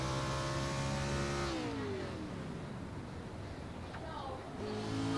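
Race car engine in a racing video game easing off the throttle to save fuel: a steady loud drone drops away as revs fall, then picks back up near the end, with voices talking over it.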